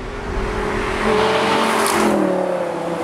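Lamborghini supercars, including a Gallardo, rev and accelerate past on a group road drive near Pisa, a rising engine whine swelling loudly then easing off.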